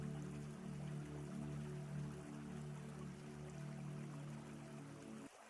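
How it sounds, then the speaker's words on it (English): A flowing stream runs with a steady, soft, continuous rush of water, faint and even throughout, with no voices over it. "You continue beside the flowing water, listening to its steady rhythm"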